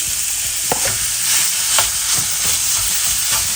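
Minced chicken sizzles loudly in a hot pan while a utensil stirs and scrapes it in irregular strokes. The frying hiss stays steady underneath, and no one speaks.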